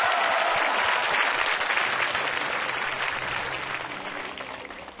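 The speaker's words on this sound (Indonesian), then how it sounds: "Tepuk tangan buat Haruka." A comedy show audience applauds steadily for several seconds, a dense wash of clapping that stays loud and slowly fades toward the end.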